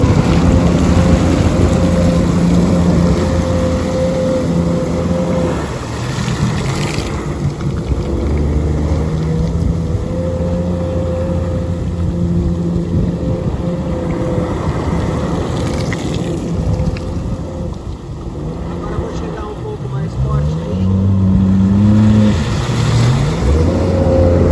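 A 2020 Yamaha VX Cruiser jet ski engine revs hard in reverse, a loud, close motor drone that holds steady, dips briefly and climbs again near the end, with wind buffeting the microphone.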